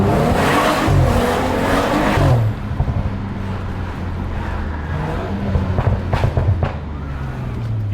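BMW F30/F32 turbocharged engine pulls hard under load, then lets off into a lower rumble with the turbo's release, loud and close from inside the car, with no talk over it.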